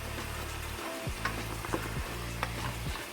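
Jamaican oxtails sizzle and caramelize on the bottom of a pot, a quiet, steady frying hiss broken by a few soft clicks and scrapes.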